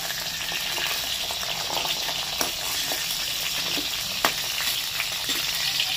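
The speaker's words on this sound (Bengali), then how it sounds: "পুরো এরকম লালচে করে ভেজে নিই।" Potato pieces fry in hot oil until reddish, a dense, steady sizzle that fills the whole stretch up close, with a few small pops and stirring clicks on top.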